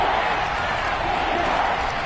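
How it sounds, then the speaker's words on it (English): A football stadium crowd at a Seahawks game roars steadily and loudly, a dense sustained wall of cheering noise ahead of a big third down, with no distinct individual voices. "the crowd getting into it as we come up on a big 3rd down"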